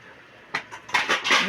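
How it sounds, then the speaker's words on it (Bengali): A pressure cooker lid being opened in a home kitchen while vegetables cook, giving a few sharp metallic clanks and scrapes in quick succession, growing louder toward the end. "যে প্রেশার কুকারটা খুলছে"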